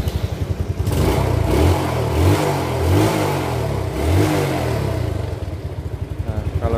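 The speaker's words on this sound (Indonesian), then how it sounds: "Kita coba matikan sekali lagi, kita kontak on lagi, kita starter." A Yamaha Vega ZR motorcycle engine whose electric starter had failed cranks and fires, then revs up and down in several loud surges before settling into a steady idle; brief background voices are possible.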